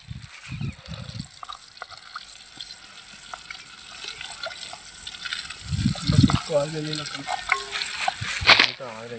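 Cumin seeds sizzling as they fry in a pan, a steady hiss and crackle running throughout with occasional stirring clatter, while a person talks over it.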